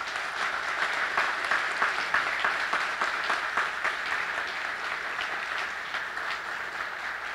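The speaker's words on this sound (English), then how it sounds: "Let's give them a round of applause." An audience at a medical school welcoming ceremony in Austin, Texas gives a round of applause, sustained even clapping from many hands, swelling early then holding steady at moderate distance.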